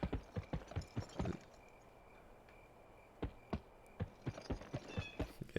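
Horse hooves clip-clopping in the PS2 video game Gun, in two bursts of rhythmic, crisp hoof strikes separated by a quieter stretch, fairly close and clear with no talk.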